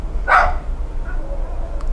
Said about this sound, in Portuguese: O cachorro quer participar.